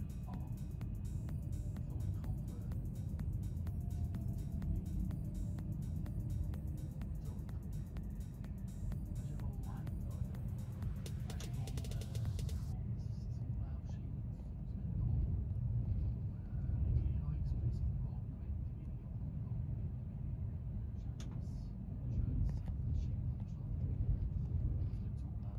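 Two Swiss trains pass each other, a Worbla bound for Bern and a Next heading the opposite way, making a steady low rumble and roar that swells and shifts midway, with indistinct voices mixed in.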